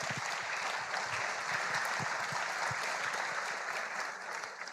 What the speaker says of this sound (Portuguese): aplaudo vocês pela honestidade